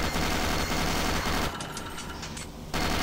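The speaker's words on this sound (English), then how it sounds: "This is really the best sound for the Gatling gun" Rapid, continuous Gatling gun fire in the shooter game Doom 3: a dense, loud mechanical roar that drops away briefly near the end, then resumes.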